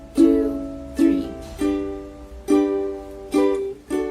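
A ukulele is strummed in a pattern of three down strums, six bright strokes ringing out in an even, unhurried rhythm, close and clear with no voice.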